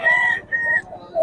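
A rooster crows loudly and close by, with two drawn-out calls and the start of a third, cutting off sharply between calls, no talking.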